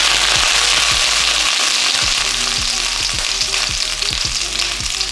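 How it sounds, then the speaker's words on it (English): Hot cooking oil sizzles steadily in a frying pan, a dense continuous hiss with scattered pops and spits, loud and close with no talking. "I think my oil might be too hot."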